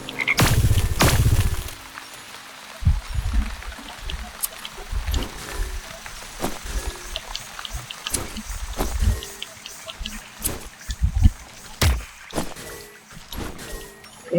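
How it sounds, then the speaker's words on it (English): Frogs croak in the game Wytchwood amid watery ambience, low croaks scattered among splashes and sharp clicking pickups, with occasional louder bursts over about fourteen seconds. "Catch all these frogs over here."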